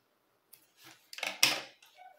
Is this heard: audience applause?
no